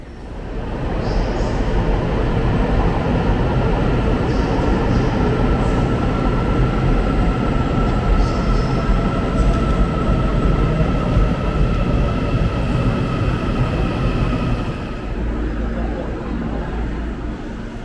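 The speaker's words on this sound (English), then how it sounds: "Before I know it, my train is pulling up to the platform." A Taiwanese Formosa Express sightseeing train rumbles loudly and steadily as it pulls in to the platform, a broad roar with a high whine, easing slightly near the end.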